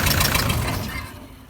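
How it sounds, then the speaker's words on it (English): A car engine with a suspected cracked piston runs rough, a loud uneven knocking rumble that dies away within a second or so as it is switched off. "if your engine's doing this, you've got problems, because that ain't meant to be doing that"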